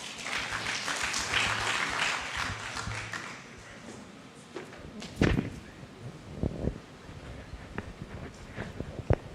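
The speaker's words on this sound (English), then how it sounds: "Let's applaud the CEO of CIPLA" Audience applause at a health sector joint review conference in Uganda, a dense burst of clapping that fades, followed by scattered individual claps in a large room.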